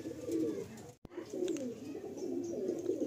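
Malbai pigeons coo softly inside a loft, a steady low murmuring with a brief sharp knock partway through.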